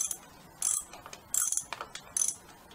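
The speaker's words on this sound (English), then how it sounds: "watch the end of your ratchet that you don't end up scratching your tank" Ratchet clicking as bolts are tightened on a Screaming Eagle Extreme Flow air filter of a Harley-Davidson Sport Glide, three short bursts of rapid pawl clicks with brief pauses between, close and fairly loud, no talking.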